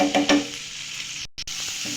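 Chopped garlic sizzles in melted butter and soybean oil in a pan, with a steady crackling fry, a few clinks of a spoon stirring at the start and a brief break midway.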